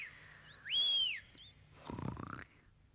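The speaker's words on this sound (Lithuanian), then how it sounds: "Švilptelsiu aš dar kartą." One sharp, rising-then-falling whistle rings out in a cartoon scene as a character tries to wake a sleeping friend, followed a moment later by a brief rough, grumbling snort.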